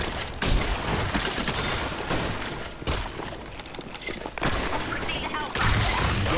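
Rapid bursts of video game gunfire with crashing impacts crackle steadily for several seconds, loud and dense, with brief gaps between volleys.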